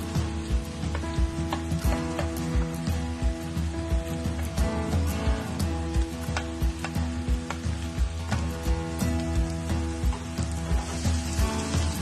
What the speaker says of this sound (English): Now I have some red pepper, mushroom and gently fry it for 2 minutes.